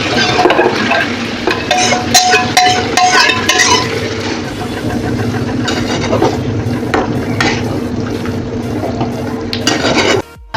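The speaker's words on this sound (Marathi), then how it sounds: "कलर पण छान आला आहे मसाल्याला आपला आपण मटण टाकून घेऊया" Mutton pieces tipped into a pan of dark village-style black masala, frying with steady sizzling, stirring and scraping, and loud clinks of a spoon against the pan near the start, continuous and close with no talk.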